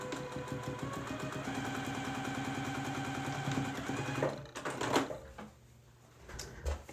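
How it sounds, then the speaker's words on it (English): A sewing machine runs with a fast, steady mechanical stitching rhythm for several seconds, then stops, followed by a few clicks and handling noises. "I'm going to take this to my sewing machine."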